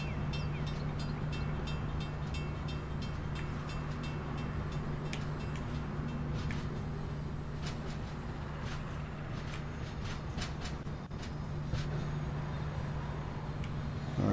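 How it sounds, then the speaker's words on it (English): A Boston commuter rail train in Train Sim World 3 pulls out slowly, a constant loud diesel hum with a steady low tone, scattered metallic clicks and clanks running throughout. "so that's one of the Boston commuter rails, not an Amtrak line. So he's pulling out at about 5 miles an hour."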